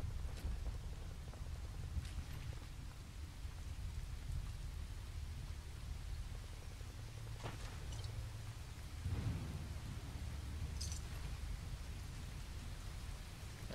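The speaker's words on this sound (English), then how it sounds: "It's raining really hard now." Heavy rain pours steadily in the Fallout 4 video game, a dense continuous hiss with a few low rumbles of thunder and scattered sharper cracks rolling underneath. There is no speech.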